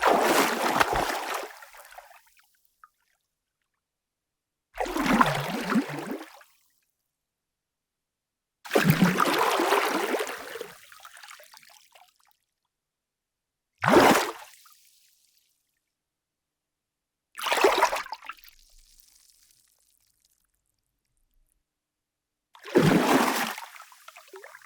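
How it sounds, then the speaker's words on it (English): Water movement effects of pass-bys, paddling and swirling play as six separate bursts, each a loud splashing swish that fades into silence before the next one. "you will find a large variety of water movement, like classic movement, pass-bys, paddling, and swirling"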